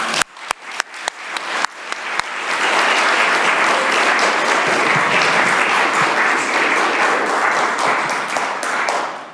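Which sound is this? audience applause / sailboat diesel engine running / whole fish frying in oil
audience applause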